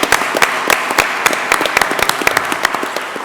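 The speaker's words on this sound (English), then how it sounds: "Now we can clap." Applause breaks out in a commissioners court meeting right after a unanimous vote, a dense patter of many hands clapping steadily through the room at close range.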